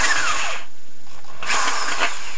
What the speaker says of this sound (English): So you just drill out a new step, doesn't fit yet.